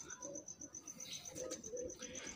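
A Salety Bichoo pigeon coos softly in a loft, low murmuring calls repeating faintly over a thin background hum and light rustling.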